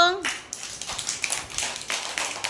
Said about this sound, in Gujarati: ચાલો તાળી પાડો